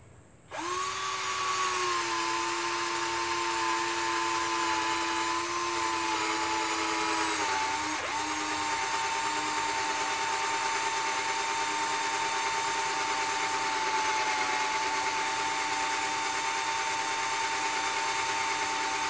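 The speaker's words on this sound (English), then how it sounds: "It's like you're gonna drill this now through metal." Cordless power drill whirring steadily while fixing new lights on a trailer, a long loud continuous whine that dips in pitch briefly partway through as it bites, then keeps running alone.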